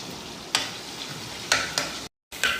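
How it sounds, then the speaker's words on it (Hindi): Ginger sautéing in oil in a pan, with a steady low sizzle broken by four sharp scraping stirs spaced across a couple of seconds and one brief silent gap. "देखिए, सौते हो गया हमारा अदरक।"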